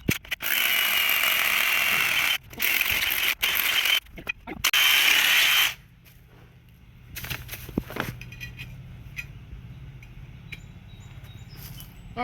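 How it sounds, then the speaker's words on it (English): A hammer drill fitted with a half-inch bit bores into stone, loud and continuous with a few brief pauses for about six seconds, then stops, leaving quieter handling noise. "And let me set that to hammer drill."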